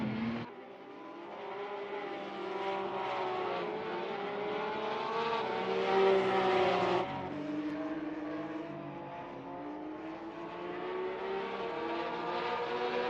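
Porsche race cars lapping the Norisring street circuit in Germany during a Porsche Cup round, a loud sustained engine howl rising and falling through gear changes, with a sharp drop near the midpoint before the revs climb again.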